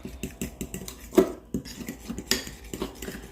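A utensil scrapes and clinks against a pot while beef is stirred, a close run of irregular metallic taps and scrapes with no talk.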